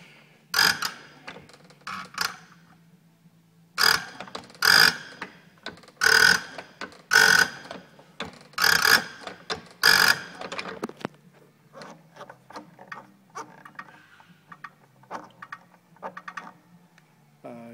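A hand injector test pump works a diesel injector from an MF 35X tractor, giving a series of sharp mechanical clicks and pops in irregular bursts, close and fairly loud, then fading into quieter ratcheting taps.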